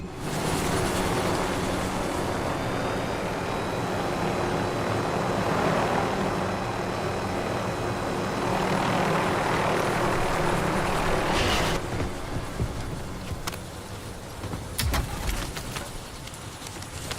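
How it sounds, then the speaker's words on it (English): A helicopter in the shooter game Warzone roars with a continuous dense rotor and engine wash, loud and close, easing slightly near the end as clicks and small impacts break through. "Let's take the heli."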